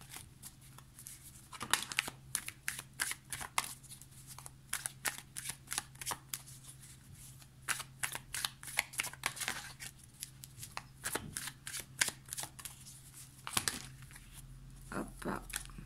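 Stiff, slightly damp tarot cards are shuffled in repeated crisp riffling bursts, close and clear, with quiet talk running alongside the card noise.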